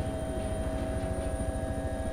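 A helicopter in the DayZ Expansion mod drones steadily with a continuous rotor and engine hum, moderately loud and unbroken, with no talking over it.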